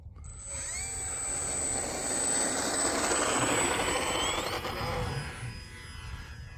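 Electric RC P-51 Mustang model airplane on a 3S battery taking off outdoors on a winter day, a rising whine and rushing motor-and-propeller roar building then easing, with a tonal sweep near the end, no talking.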